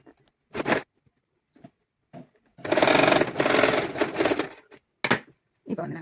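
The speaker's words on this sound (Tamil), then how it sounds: "இனி நாங்கள் வந்து தைக்க வேண்டியது." Sewing machine stitching a girls' silk skirt and blouse, with a steady whirring run of about two seconds framed by a few short taps and fabric handling noises nearby.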